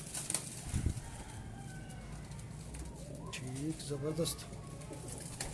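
Breeder pigeons kept in Lahore coo softly in short rolling phrases, with a wing flap or shuffle early on. They sound close, under and between brief Hindi-Urdu speech from men nearby.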